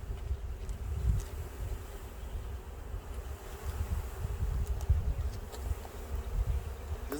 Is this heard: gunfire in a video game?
no